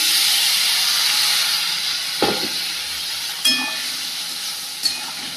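Crab simmering in a pan after water is added gives a steady, close hiss and bubbling, with a few brief clinks or knocks of a utensil over the continuous sizzle.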